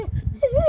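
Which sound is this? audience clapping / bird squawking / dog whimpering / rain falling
dog whimpering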